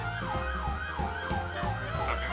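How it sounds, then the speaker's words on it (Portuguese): An ambulance siren wails with a rapid rising and falling electronic sweep. It is loud and close, heard from a bus over a continuous low traffic rumble. "Tá vindo a ambulância"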